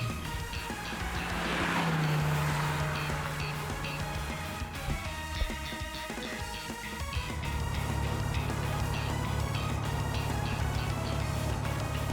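Racing-game car engines from Trails through Daybreak roar steadily and loudly throughout, with a rising engine whine near the start and tire squeals and skids mixed in, continuous with no talk over it.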